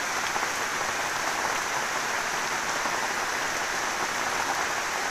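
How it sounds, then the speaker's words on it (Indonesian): Heavy rain pours steadily around a treehouse in a forest, a dense, even hiss of drops close by that continues without pause, with no voices. "Dan ternyata hujan deras banget lagi. Ini makin deras tapi malah keluar matahari."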